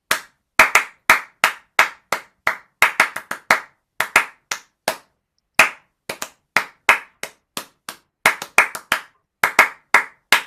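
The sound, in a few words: hands clapping the rhythm of Deck the Halls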